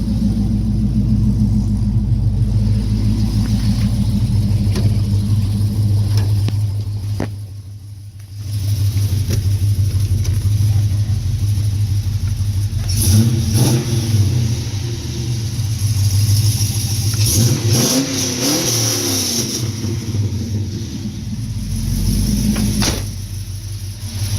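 A deep, rumbling LS V8 engine swapped into a G-body car idles loudly nearby, then revs up several times with throaty roars, dipping briefly quiet partway through.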